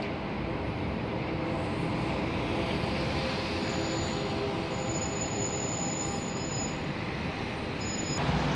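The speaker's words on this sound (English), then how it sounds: "One thing about Portland I like is you hear the train whistles" A train rolls through downtown Portland, Oregon, its wheels squealing loudly and continuously against the rails in a close, steady grinding screech without speech.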